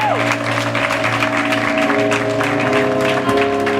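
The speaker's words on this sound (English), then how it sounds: "Come on, clap those hands there" Congregation applause at a church prayer breakfast for a Mother's Day family day, steady clapping spread through the hall under sustained organ or keyboard chords, with some voices mixed in.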